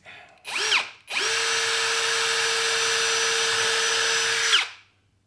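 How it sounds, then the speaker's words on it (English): A cordless power drill whirs in a short burst, then runs steadily at high speed for several seconds, close and loud, before stopping. "So we'll drill another hole there."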